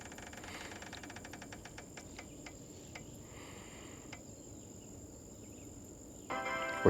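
A spun color wheel ticks rapidly at first, the clicks spacing out and slowing to a stop over a few seconds, close and fairly faint over a steady background hiss.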